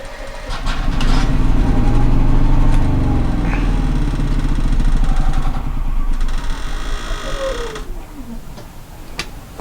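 Motorhome generator engine cranking and starting, then running with a steady close mechanical idle and rapid ticking, loud throughout before easing slightly toward the end, with brief talk over it.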